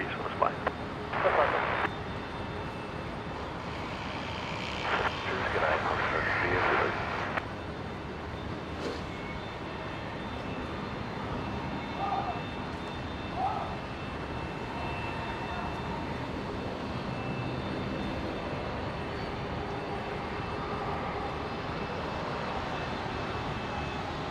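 An Alliance Airlines Fokker 70 at Brisbane Airport produces a continuous distant jet engine drone, with people talking intermittently near the start over the steady engine noise.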